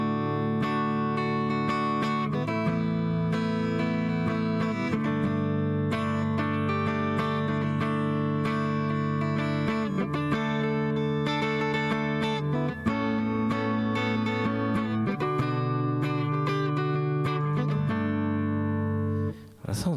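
Acoustic guitar strummed and picked through a Nux Mighty Air amp with a Taylor 314 acoustic impulse response, giving steady, ringing chords with no talking.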